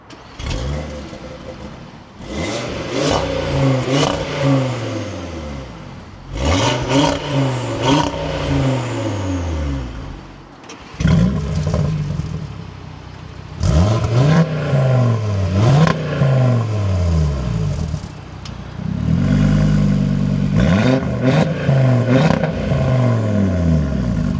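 A stock 8Y Audi RS3 with mid-pipes, driven in comfort mode, sounds off in repeated loud revving pulls that rise and fall in pitch, with brief lifts between them, close and steady with no talk.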